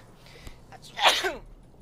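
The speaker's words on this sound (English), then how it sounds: "Ooh, I'm gonna sneeze." A single loud human sneeze with a short inhale before it, close to the microphone and heard on its own without talk.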